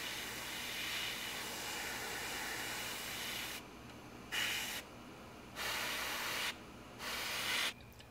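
Airbrush spraying a coat of MRP semi-gloss lacquer onto a 1/48 Tamiya F-4B Phantom model kit, a steady close hiss broken into several bursts with short pauses between passes.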